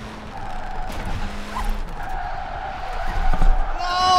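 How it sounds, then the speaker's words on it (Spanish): Tire squeal from burnouts by an Abarth 595 with a 667 hp, 519 kg build in Forza Horizon 4, a screeching skid over engine roar that swells and grows louder toward the end, with no talk. "Es que sales pegando unas quemadas brutales."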